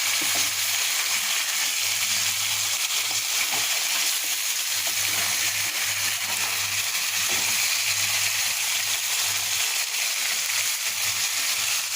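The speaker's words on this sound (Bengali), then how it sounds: "মশলার সঙ্গে একটু নেড়ে চেড়ে কষিয়ে নিয়ে" Continuous sizzling of fish frying with spices in a kadai, with occasional stirring and scraping sounds, steady and close, no talking.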